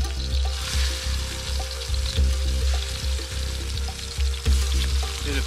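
Carp frying in oil in a pan set over hot coals, a loud, close, continuous sizzle with crackling pops and no talking.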